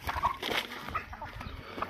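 Hens cluck softly in short, scattered calls over a low rustling farmyard background, with a few brighter peeps here and there, in a garden with poultry.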